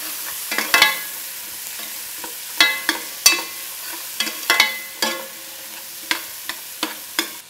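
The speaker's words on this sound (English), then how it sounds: "In goes our mirepoix." Diced onion mirepoix sautéing in a pot for short rib, with a soft background sizzle punctuated by sharp intermittent clacks and scrapes of a spoon, close and fairly loud.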